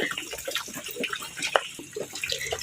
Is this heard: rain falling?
no